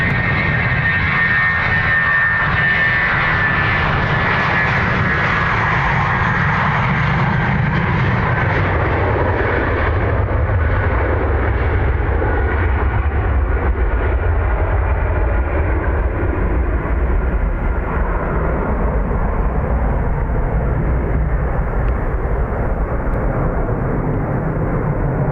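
A Ryanair jet lining up on runway 10 right at Dublin Airport gives a loud, steady broadband engine roar that holds for the whole stretch, with a high whine fading early on and a deep rumble underneath.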